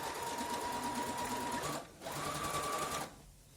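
A sewing machine stitches a dress seam in two steady close runs of rapid mechanical whirring, a brief pause between them and the motor stopping at the end.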